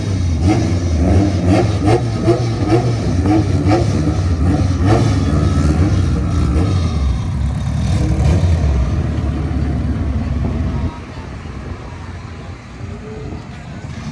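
A boosted all-wheel-drive drag racing car with a 2ZZ engine accelerates hard at a drag strip qualifying day, a loud harmonic engine roar that climbs in pitch, then drops to a quieter steady rumble near the end.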